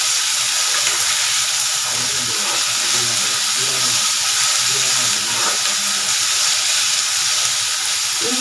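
Ginger garlic paste sautéing in a pan on the stove, a steady broad hiss and sizzle holding evenly throughout with faint low clatter underneath.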